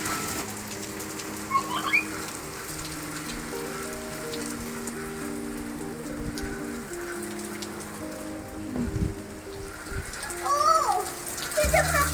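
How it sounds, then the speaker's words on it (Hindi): Heavy rain falls steadily outdoors, a dense constant patter of drops running throughout, with children's voices and occasional talk layered over it. "देखो ऊपर कितनी छमछम बारिश हो रही है"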